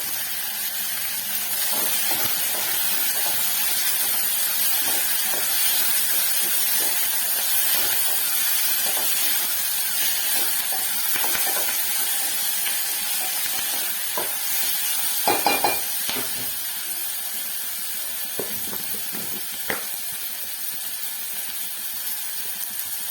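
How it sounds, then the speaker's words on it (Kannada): Curry leaves sizzling in hot oil in a pan, a steady frying hiss with scattered pops and a couple of sharper crackles partway through, close and continuous. "ಕರ್ಬೇವು ಹಾಕೋತಾ ಇದ್ದೀನಿ"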